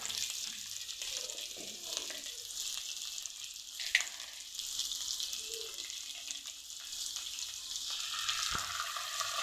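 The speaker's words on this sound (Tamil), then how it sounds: "இஞ்சி பூண்டு பேஸ்ட் போட்டு நல்லா அதை வதக்கி விட்டுக்குங்களா." Ginger garlic paste sautés in a pan with onion and capsicum for a gobi paneer Manchurian, giving a soft, even sizzle with a couple of faint utensil clinks, quiet and close.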